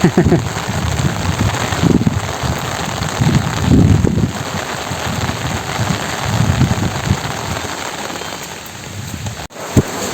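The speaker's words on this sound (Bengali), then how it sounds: "এই যে বৃষ্টির মাঝে বাইরে পড়ছে বিদ্যুৎ" Heavy rain pours during a thunderstorm over flooded village land, a steady loud roar with low rumbling swells of thunder and a sharp crack near the end.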